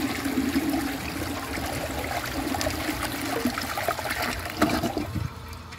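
A 1992 Eljer Preserver toilet flushes a washcloth, a sustained gushing and swirling rush of water that trickles and gurgles toward the end, fairly close and moderately quiet, with no voices.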